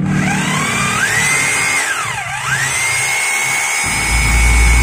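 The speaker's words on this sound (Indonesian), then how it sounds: "Ini untuk mode bor beton." A Bosch GBH 2-20 DRE rotary hammer drill in concrete drilling mode whines steadily, its pitch sweeping down sharply and climbing back up, then humming on at a constant high tone.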